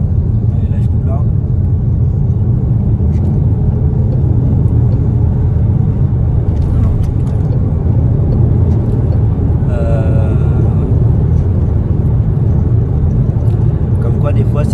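Steady engine and road rumble from a car overtaking on the road, heard from inside the vehicle as a continuous low drone with no break.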